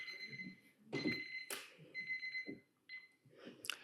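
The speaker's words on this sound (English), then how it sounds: "So Ilse, you were within 10 seconds of the beep" A quiet electronic beeping alarm sounds in several short bursts with gaps between them, faint and mixed with low background noise.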